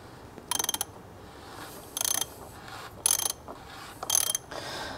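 A ratchet turns a 36 mm socket to undo a car's oil filter housing, giving four short bursts of rapid clicking with steady background noise between them.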